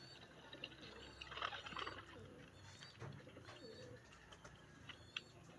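Racing pigeons just released for a training flight are heard faintly outdoors, with soft cooing and scattered bird calls among quiet background noise.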